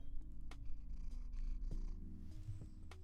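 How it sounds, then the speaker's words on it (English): A cat purrs close to a microphone, a low continuous rumble pulsing in a steady rhythm, with a few faint clicks and shifts in the background and no talking. "I can hear the cat purring."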